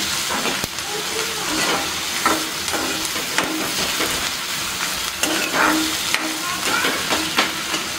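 Onion fries in a pan for Mumbai street-style pav bhaji, with a steady close sizzle and intermittent scraping from stirring.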